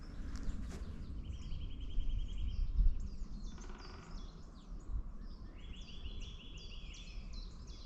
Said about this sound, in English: That is a nuthatch.